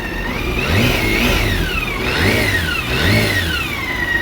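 A BMW K1600GT touring motorcycle with a 1649cc six-cylinder engine revs up in three rising and falling surges. Its smooth, loud mechanical whine swells and eases close by, with no talking.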